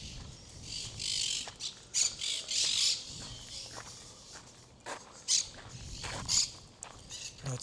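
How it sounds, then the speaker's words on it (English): A parrot screams outdoors in loud, harsh bursts, several squawks coming in irregular clusters against a quiet background. "I thought, who can scream so loud? That's a parrot."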